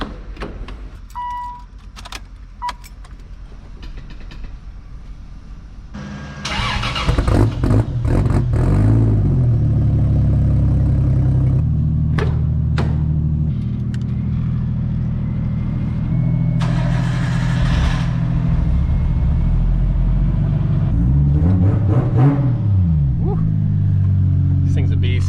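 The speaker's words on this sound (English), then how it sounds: "Let's go ahead and get these cars moved around," Cars, including a project R32 Nissan Skyline, start up and idle with engine rumble and revving as they are moved around, loud and continuous after a quieter opening, with people talking over it.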